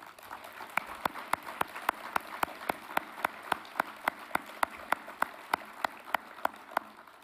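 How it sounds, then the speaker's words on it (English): A steady, even handclapping at a quick pace, crisp and fairly close, with no voices over it. "give another great hand clap"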